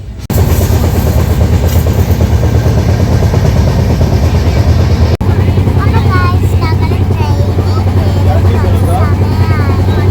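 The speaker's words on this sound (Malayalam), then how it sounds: "അങ്ങനെ ഞങ്ങൾ ട്രെയിനിൽ കയറി" The interior of a moving passenger train between Bangalore and Chennai, with a loud continuous rumble and rhythmic clatter of wheels on rails, a brief dropout midway, and faint voices.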